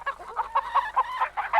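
A chicken clucks in a quick run of short, rhythmic calls, close and clear, with no talking over it.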